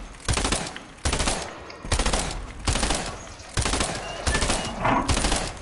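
Burst SMG fire in a video game: loud, rapid bursts of shots repeating in a steady rhythm about every second, each burst separated by a short pause.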